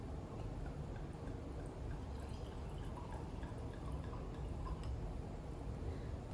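Noble Vines Chardonnay white wine poured from a twist-top bottle, a steady close liquid trickle and gurgle running the whole time with no talking.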